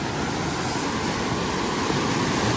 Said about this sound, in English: The whirlpool.